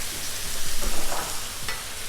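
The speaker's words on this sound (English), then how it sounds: "I'm gonna go ahead and throw on my jalapeno because I like to get a little fry on that as well" A jalapeno fries in olive oil on a Blackstone griddle, giving a steady close sizzle with a few soft scraping stirs partway through.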